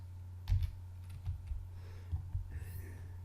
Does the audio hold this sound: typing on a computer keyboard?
yes